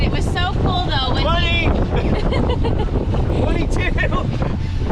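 Wind-whipped waves bash against a sailboat on Lake Okanagan in 25-knot wind, a loud, continuous rush of water and wind buffeting the microphone, with excited voices talking and shouting over it.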